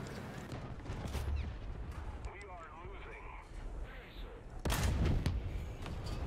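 Tank cannon fire in a World War II tank video game with a Hungarian Turan II, heard as loud booming blasts, one near the start and a heavier one around the middle, over battle noise while someone talks.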